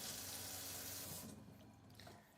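Cold water runs steadily from a campervan sink tap, a close, continuous hiss that eases after about a second.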